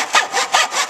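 A handsaw cuts through wood held in a miter box, four rhythmic back-and-forth strokes rasping close and clear, each push swelling then easing, with no voices.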